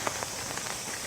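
Steady rain patters onto surfaces in a quiet Japanese village, with a continuous soft hiss and scattered faint drip ticks at a low level, no voices present.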